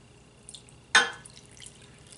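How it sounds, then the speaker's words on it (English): Water poured into a pot of Korean army base stew (budae-jjigae) lands as one sharp splash, then trails off into a few faint drips. "And then we're going to add water."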